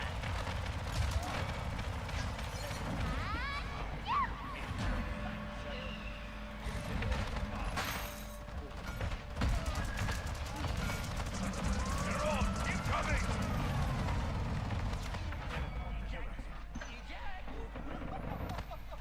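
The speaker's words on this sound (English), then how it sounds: "Bring out the big gun." Ruckus's big gun fires in Paladins in bursts of rapid mechanical gunfire and impacts, mixed with other game effects, while a person talks over much of it.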